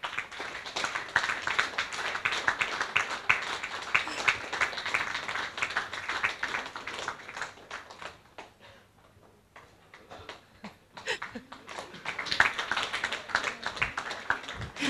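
Applause from an audience at a lecture after bouquets of autumn flowers are handed over, dense clapping that thins briefly in the middle before swelling again, fairly close and sustained.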